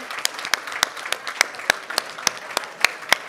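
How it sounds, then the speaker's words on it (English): A conference audience applauds the Solar Power Europe team, with a broad bed of clapping and sharp, loud individual claps ringing out close by at a rough, quick rhythm. "a big applause for the big team"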